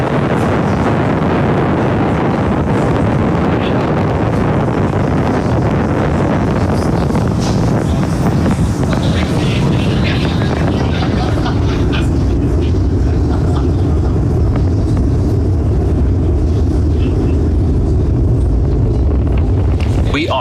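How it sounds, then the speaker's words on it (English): Falcon 9 rocket lifting off from Launch Complex 39A at Kennedy Space Center, a loud, continuous broadband roar with crackling rumble that persists steadily throughout, dense low-end energy filling the whole span. "Falcon 9 has successfully lifted off from Launch Complex 39A, carrying our 53 Starlink satellites into space."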